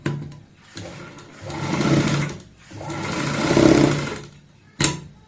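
A sewing machine stitching buckram into a kurta collar, running in two sustained whirring runs with short pauses between them, ending in a brief burst, loud and close.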